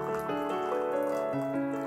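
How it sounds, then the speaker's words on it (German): Tea, a Muskateller sage blend, is poured into a cup, a continuous gentle trickling liquid stream with rising pitch as the cup fills, close and fairly quiet. "Ich gieße mir jetzt mal ein bisschen was von dem Tee ein."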